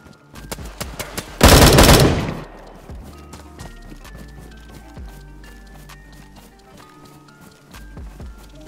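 Gunfire in the DayZ battle royale video game: scattered single shots, then a loud dense burst of rapid automatic fire, followed by lighter shots and clatter under background game sounds.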